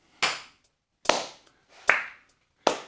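Four sharp, separate hand claps ring out at an even, unhurried pace, each loud and close with a short decaying tail, in an otherwise quiet room.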